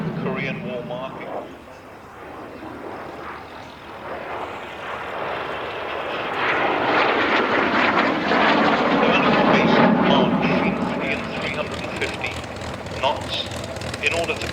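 An aircraft in Korean War markings flies at the Duxford Autumn Air Display 2011, its engine roar swelling from a distance to a loud peak and then easing slightly, heard beneath a public-address commentary.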